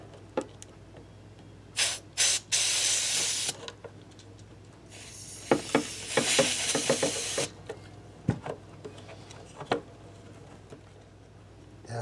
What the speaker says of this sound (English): Be able to get some spray in there.